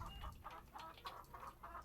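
Chickens in the Nancy Drew: The Secret of Shadow Ranch video game cluck in a quick, even run of about seven short bursts, near and moderately loud, with no voices.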